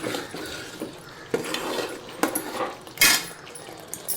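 Tamarind rice mixture being stirred in a pan, with a few scattered scraping and clinking knocks of a spoon against the metal, one sharper clatter near the end, and no talking.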